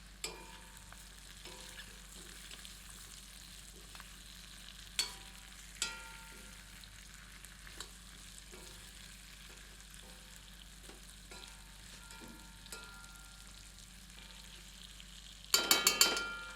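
Goat trotter (paya) pieces being stirred in a pot, a steady low sizzle under scattered spoon scrapes and knocks, ending in a brief louder burst of stirring.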